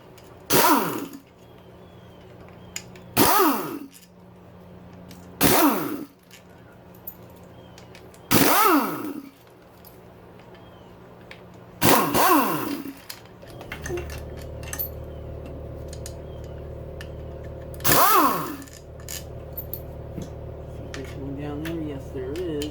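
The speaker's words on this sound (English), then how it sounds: "now it's time to remove all the clutch cover bolts here." Bolts being removed from the clutch cover of a Yamaha YZ125 motocross bike, heard as six sharp metallic clicks and rattles spaced a few seconds apart, close up, with a faint steady hum between them and no talking.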